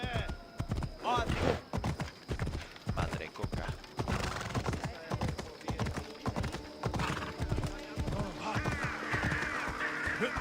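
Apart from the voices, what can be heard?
horse hooves clip-clopping in Odyssey video game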